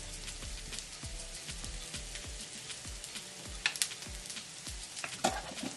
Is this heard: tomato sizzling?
yes